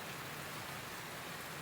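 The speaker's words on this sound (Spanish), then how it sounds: "no se ve, pero está lloviendo" Steady rain falls outdoors on a stormy morning in Estonia, a constant even hiss of drops with no pauses and no talking.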